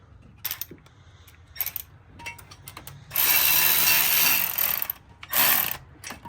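A ratchet tightens a bolt on a turbo, with scattered clicks and knocks, then two long bursts of rapid ratcheting, close and loud.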